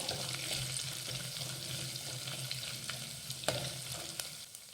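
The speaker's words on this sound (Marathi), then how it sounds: "घालूयात अर्धा इंच किसलेलं आलं आणि हे परतून घेऊयात" Grated ginger sautés in a pan for Maharashtrian masale bhat, giving a steady, soft sizzle and frying crackle with faint stirring scrapes throughout, close but quiet, with no talking.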